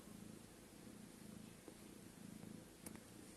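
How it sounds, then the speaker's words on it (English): A cat purring steadily at close range, a soft continuous rumbling with a pulsing rhythm, very quiet against a hissy background, with no talking. "She's having a little purring party."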